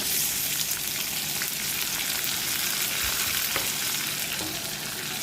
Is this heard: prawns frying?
yes